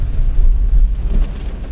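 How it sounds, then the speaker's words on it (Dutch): Heavy rain falling outdoors, a steady, loud, dense rumbling wash with no voices. "Maar het is zo aan het regenen."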